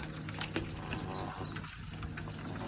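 Pigeons feed on grain on a rooftop while wings flap in several short bursts, with faint cooing and pecking close by.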